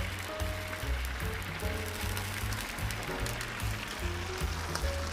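Onion rings deep frying in oil on a Camp Chef griddle, a dense, steady sizzle and crackle of bubbling oil, close and continuous, with low rhythmic tones underneath.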